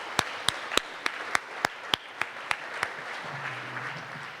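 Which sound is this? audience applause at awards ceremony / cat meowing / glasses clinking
audience applause at awards ceremony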